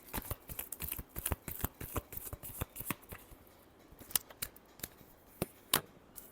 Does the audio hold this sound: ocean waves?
no